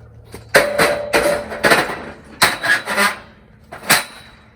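An aluminum scaffold plank set down onto a scaffold frame, giving several sharp metallic clanks and knocks in an uneven run, close and fairly loud, with a ringing tone after some impacts.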